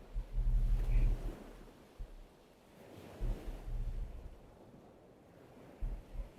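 Ocean waves wash onto a shore in slow repeated surges, rising and falling with gusty wind rumble, near and fairly soft, no voices.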